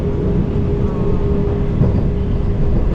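Steady rumble of a Vande Bharat express train between Chennai and Tirupati, heard from inside the coach while running at about 69 km/h, with a continuous low roar and faint hum, no speech.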